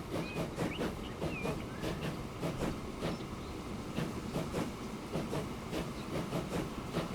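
A train labours up a steep incline in Transport Fever 2, a steady rumble with rhythmic clickety-clack of wheels over rail joints and occasional faint squeals, continuous and moderately distant.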